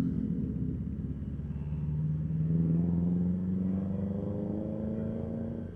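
A car engine revs and climbs in pitch while overtaking on the Sarangan–Tawangmangu road, a steady loud droning rumble rising smoothly as it accelerates, then easing slightly, heard from inside with no talking.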